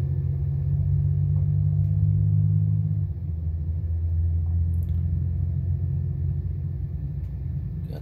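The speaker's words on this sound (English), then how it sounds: "Got that diesel engine equipped in this truck." A diesel engine in King Boo's monster truck in Mario Kart 8 Deluxe on N64 Toad's Turnpike makes a loud, steady low rumble. A deeper droning tone holds for three seconds, then settles into a continuous growl.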